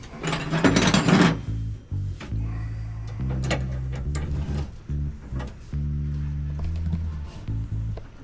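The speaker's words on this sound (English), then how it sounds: "Put our grub screw in." A grub screw being driven into an engine part during an engine build: a loud burst of rattling near the start, then a series of close, short ratcheting and clicking mechanical sounds in uneven bursts.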